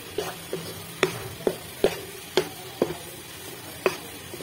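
Egg halwa frying in oil in a pan, a spoon scraping and knocking against the pan about every half second over a light sizzle, close and clear, with no voices.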